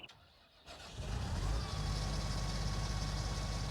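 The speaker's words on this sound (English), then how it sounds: "Sounds like a much more meaty combine." Combine harvester engine in the video game Farming Simulator 19, starting up after a quiet moment and settling into a steady, heavy, rumbling drone that holds loud and close.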